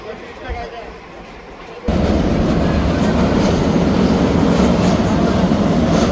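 Chattala Express passenger train arriving at a station: quiet ambience gives way abruptly to a loud, close, continuous rumble and clatter of rail cars that holds to the end.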